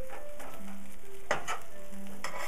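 Fish frying in a pan as it is flipped, a steady close sizzle with a brief sharp clatter partway through, and no talking.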